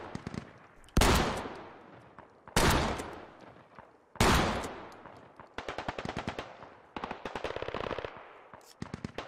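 Gunfire crackles in Squad: three loud single shots ring out first, then rapid automatic bursts come in quick runs at moderate distance, with no voices.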